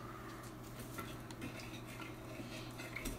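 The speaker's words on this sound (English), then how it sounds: "So I'm just going to stir this," Wine, sugar and gelatin are stirred in a pot, a utensil clinking and scraping lightly against the metal in quick, irregular taps over a low, even background, fairly quiet and close.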